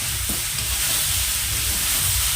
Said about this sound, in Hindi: कलछुल की सहायता से इसे चला लेते हैं, उलट पुलट देते हैं ताकि गुड़ जो है ना मेल्ट हो जाए